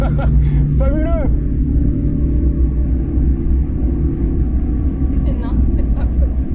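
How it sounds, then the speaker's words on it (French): Peugeot 106 XN overtaking another car on the Nürburgring, heard from inside as a loud, steady engine and road rumble that fills the whole clip, with voices in the cabin talking over it. "On va dépasser une voiture."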